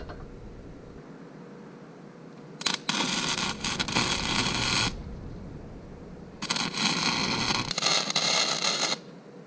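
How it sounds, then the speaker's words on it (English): Electric welding on a homemade electric motorcycle frame in a workshop: two loud sustained bursts of crackling, hissing arc noise, each a couple of seconds long, separated by quieter room background. "we're about to weld."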